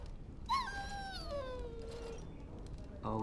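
A dog whimpers in Dragon Age: Origins: one drawn-out, high, whining cry that slides downward over about two seconds, with a brief clatter at the end.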